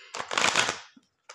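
Tarot cards shuffled by hand in one short, close riffling burst, followed by a faint tap and a brief second flick.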